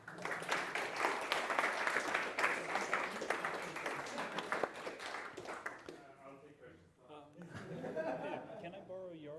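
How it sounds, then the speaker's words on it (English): Audience at a CNCLinz conference talk on serverless options on Microsoft Azure, bursting into dense, sustained clapping with some laughter for about six seconds, then fading as people talk and chuckle nearby. "Now you can applaud."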